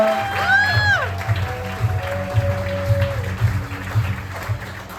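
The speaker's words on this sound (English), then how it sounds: "please start clapping right now" A comedy club audience claps and cheers loudly and steadily, with a dense wash of applause filling the room, bright rising and falling whistles near the start, and a low rhythmic pulse running underneath throughout.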